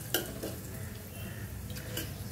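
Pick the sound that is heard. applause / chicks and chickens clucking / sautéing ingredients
sautéing ingredients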